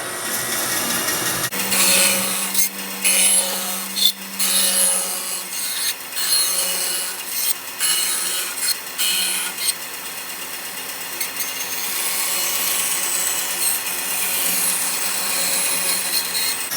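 A band saw cuts relief cuts into a wooden workpiece. A steady machine hum runs throughout, broken by repeated bursts of rasping blade-on-wood cutting as each cut is made, loud and close, with no speech.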